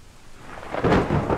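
Thunder rumbles in a horror video game, a loud rolling crash that swells and lingers over steady rain, with no voices.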